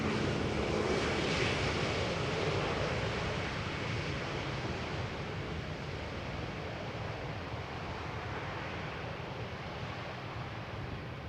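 An Airbus A320neo airliner at Amsterdam Schiphol Airport on a misty morning gives off a steady, broad jet-engine rumble, slowly fading from a louder start to a softer hiss.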